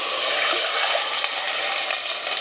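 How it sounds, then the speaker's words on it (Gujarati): Soaking water is poured from a vessel into rice in a pot, making a steady rushing gush that stays loud and continuous throughout, close by with no voices. "જે પાણી મૂક્યું હતું તે પણ નાખી દીધું છે તેમાં જ"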